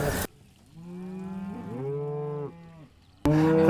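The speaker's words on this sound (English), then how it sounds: "These are the mixed stage stud cows." Mixed-age stud cows on a New Zealand farm during calving, with one cow giving a long, clear moo that rises and wavers for about two seconds, close by, between bursts of other sound.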